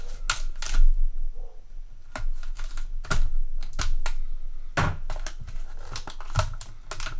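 A security light being taken out of thin plastic packaging: close crinkling and sharp crackling snaps in irregular bursts, several loud and some softer, with no talking.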